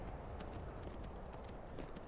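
In Skyrim, a horse's hooves clop along at a steady trot, a rapid, even beat heard faintly over a constant low rumbling background.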